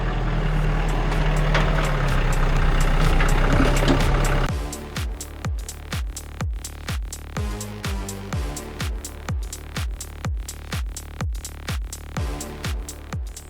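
A small chainsaw idles while bucking firewood, first as a loud steady drone, then a regular pulsing putter of the idling engine repeating evenly for several seconds.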